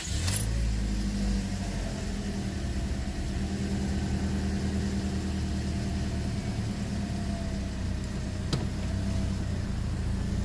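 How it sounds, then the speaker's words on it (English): A Toyota Corolla engine turns over with a brief crank at the start, then settles into a steady, moderately loud idle that hums on for several seconds, with no voices heard. "Let's crank the car up."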